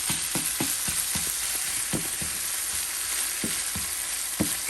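Seasoned ground beef for tacos fries loudly in a pan with a steady, dense sizzle, broken by a series of sharp scraping clicks as it is stirred, with no voices.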